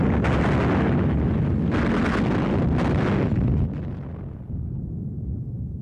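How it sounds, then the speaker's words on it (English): Heavy artillery shelling over a city centre during the battle for Berlin: a continuous loud rumble of distant blasts and roaring noise, with a few sharper bursts, fading somewhat toward the end. "heavy artillery pounded the city center"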